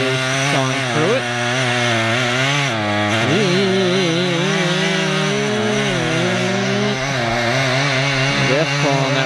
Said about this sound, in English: See if he is sawing through it.